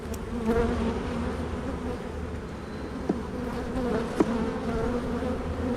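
Honey bees buzz around an open hive during an inspection, a dense continuous drone with a few sharp clicks of handling, close and steady.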